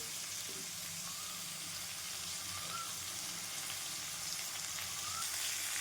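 Cashews fry and roast in a pan for palak paneer, a steady close hiss and sizzle that continues unbroken with no talking.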